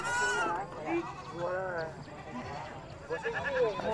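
A baby goat bleats several times at a mountain livestock market in northwest Vietnam, short wavering cries close by, with someone talking over and between them.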